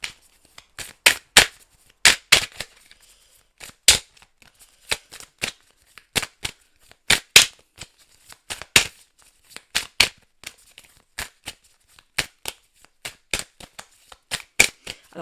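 Tarot or oracle cards are shuffled by hand in repeated quick riffles, each burst a crisp papery flutter, close and clear with brief gaps between them.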